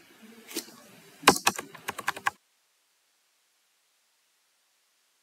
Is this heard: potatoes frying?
no